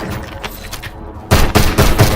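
Call of Duty Warzone battle royale gunfire: a quiet stretch gives way to a burst of loud, close shots in quick clustered bursts, with no talk over them.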